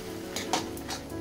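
Maggi noodles tossed with masala in a pan, a few soft scraping stirs and light clinks at close range over a faint sizzle.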